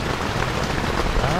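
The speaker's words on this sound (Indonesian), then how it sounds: "Sampai pagi hujannya teman-teman." Heavy rain pours onto a tent at a campsite, a dense, steady roar of drumming drops with no letup, close and loud.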